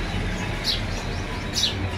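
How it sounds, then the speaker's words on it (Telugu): Birds chirp on a morning in Munnar, with two short, bright calls about a second apart over a steady outdoor background hum. "పక్షుల కిలకిలలు నైట్ 4 o'clock నుంచి స్టార్ట్ చేస్తాయి"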